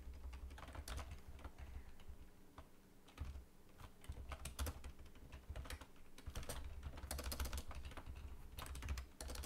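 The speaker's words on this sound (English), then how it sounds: "Typing like a gibbon." Rapid, uneven keystrokes on a computer keyboard clatter steadily in close bursts with brief pauses, alone without any talk.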